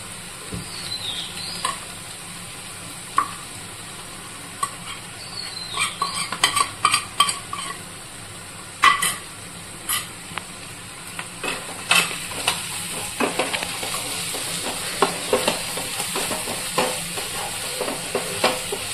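Whole spices fry in a pan for a chicken chop recipe, giving a steady sizzle broken by sharp metallic scrapes and clinks of a spoon stirring, close and loud with no talk.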